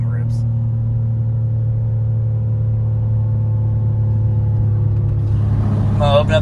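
An 800hp rear-wheel-drive BMW M2 fitted with Berger Motorsports intakes hums loudly and steadily with a deep, even engine drone, close by, with a brief voice near the end.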